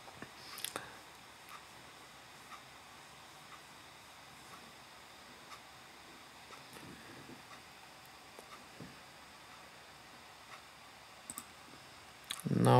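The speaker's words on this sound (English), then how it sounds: "So I'll click on next." Computer mouse clicks during a software installation on a PC, a few faint, sparse single clicks spread irregularly over a quiet background hum, with no talking.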